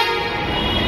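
Car horns honking in heavy, congested road traffic, a sustained loud tonal blare lasting the whole short moment, close by with no talk over it.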